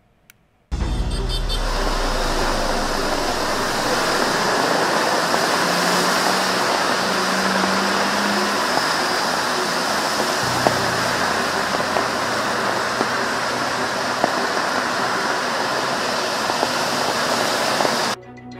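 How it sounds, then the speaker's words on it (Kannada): Floodwater rushes over Bengaluru roads in Rainbow Layout after heavy rain, a loud, steady, close roar of churning water that runs unbroken for the whole stretch with no voices. "ಚರಂಡಿಯಲ್ಲಿ ಹರಿಯಬೇಕಾದ ನೀರು ರಸ್ತೆ ಮೇಲೆ ಉಕ್ಕಿ ಹರಿಯುತ್ತಿದೆ"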